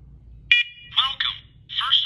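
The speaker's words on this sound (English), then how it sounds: "First alert, carbon monoxide and smoke alarm. This is the one that is talking right now." A First Alert carbon monoxide and smoke alarm in pairing mode gives a sharp electronic beep, then its built-in recorded voice speaks announcements, close and clear in a quiet room.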